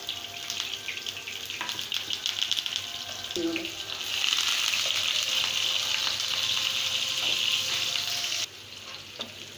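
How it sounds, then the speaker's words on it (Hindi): Onions, peppercorns, garlic and curry leaves fry in oil with a steady crackling sizzle and a soft clink from the spoon. The sizzle swells louder midway and then drops back near the end, close by. "इन तमाम अज्जा को हमने गोल्डन ब्राउन होने तक भूनना है, चमचा चलाते हुए"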